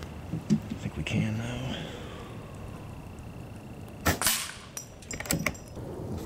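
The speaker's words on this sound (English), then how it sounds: "shooting 18 grain JSBs on high power" An airgun on high power fires 18 grain JSB pellets at steel silhouette targets: soft pops and metallic pings, one sharp crack around the middle and a quick cluster of clanks near the end, with quiet talk in between.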